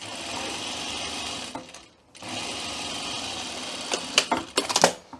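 Sewing machine running a 1/4 inch seam on lightweight pocket lining, a steady fast whir in two bursts separated by a short pause, ending in a few clicks and clunks.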